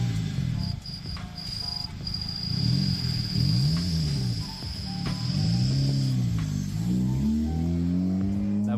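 A Honda Civic pulls away and drives off, its engine note rising and falling through gear changes as it recedes, with a steady high insect-like whine running through the background.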